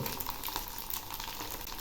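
Soaked rice frying in hot oil and puffing up like puffed rice for a kurmure chanachur snack, a steady close bubbling sizzle with light crackles, quiet and continuous, no talking over it.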